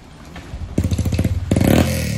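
A motorcycle engine just started and not yet warm sputters to life with a thump, then runs in a rough pulsing idle, revving briefly louder, close by.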